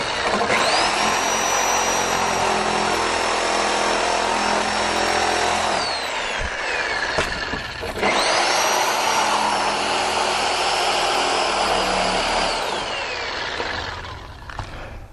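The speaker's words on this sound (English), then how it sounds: "We got to drill a hole in there and cut that out" A high-pitched power drill whines loudly and continuously while drilling a hole in a window sub sill, pausing briefly midway before starting up again and running on.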